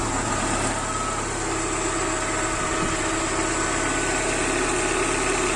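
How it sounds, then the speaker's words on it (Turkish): A Lada car engine idles steadily after an internal engine flush and oil refill, with a constant low hum and faint mechanical whine, close by and unchanging throughout. "Neredeyse aynı şekilde motor sesi."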